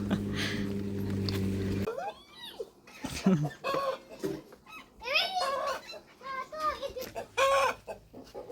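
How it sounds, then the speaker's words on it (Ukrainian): Chickens clucking nearby in short, choppy bursts, with a voice talking among them after a steady engine-like hum cuts off. "Кури."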